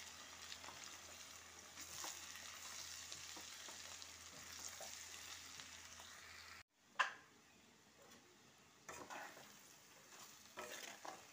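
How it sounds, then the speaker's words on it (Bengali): Chicken sizzles quietly in a pot as cumin, chili and turmeric are stirred through, with a soft continuous fry, a break partway and a sharp clatter of stirring as it resumes. "জিরে, লঙ্কা, জিরে, হলুদ, লঙ্কা গুঁড়ো দিয়ে ভালোভাবে নেড়ে নিচ্ছি।"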